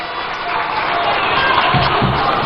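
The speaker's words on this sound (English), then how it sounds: "A round of applause for him." A crowd at an outdoor NDC manifesto launch rally in Winneba, Ghana, cheers and claps in a loud, continuous wash of noise, with scattered shouts rising near the end.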